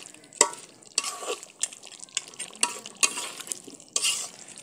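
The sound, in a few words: stirring beef curry with potatoes in a pot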